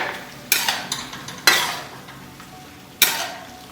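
A spatula scrapes and stirs green beans in a pan for Thai basil chicken, three distinct strokes with a soft sizzle underneath.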